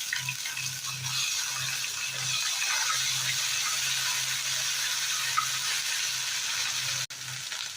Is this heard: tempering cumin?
yes